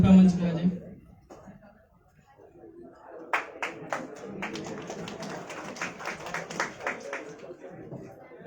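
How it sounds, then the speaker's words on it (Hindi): An audience at a tablet distribution ceremony at an institute of management and technology gives scattered applause to welcome guests, starting after a brief announcer's voice and a pause, then building into a lively round of clapping from many hands. "गौतम बुद्ध नगर से जोरदार तालियों के साथ स्वागत करें।"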